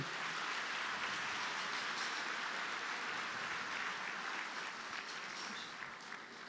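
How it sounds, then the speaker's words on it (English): Even, continuous clapping from an audience at a choral concert, greeting a musician; the applause is quiet and distant, a uniform wash of many hands. "Let's give her a round of applause."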